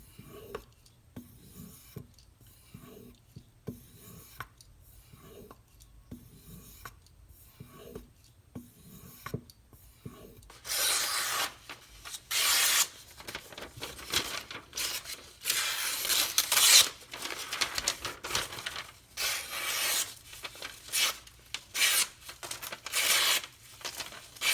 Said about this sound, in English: I have never found an edge that didn't benefit from some stropping.